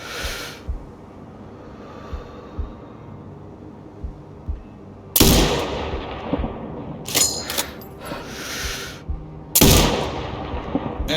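Sniper rifle shots in the shooting game Sniper Ghost Warrior Contracts 2: a few loud, sharp cracks that ring out and decay, separated by quieter stretches of ambient game sound, with no speech.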